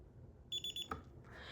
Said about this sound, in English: next up we will be doing a medical alarm